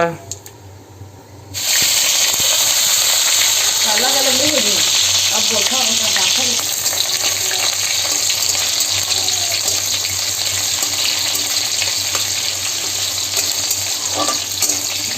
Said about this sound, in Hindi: अब एला थोड़ा भूंज लेबो संगवारी हो, गोल्डन ब्राउन के होवत ले।